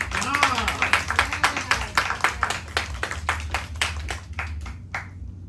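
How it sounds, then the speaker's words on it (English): An audience at a live Louisiana Words spoken-word homecoming show applauds for Matt, a run of loud, fairly close individual claps at a brisk rhythm that thins out and stops, with voices and cheers mixed in. "let's give Matt another round of applause"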